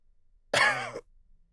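A man coughs once in a harsh, throaty burst lasting about half a second, close and alone, while stale, heavy air and gas sting his face and eyes.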